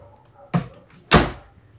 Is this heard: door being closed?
yes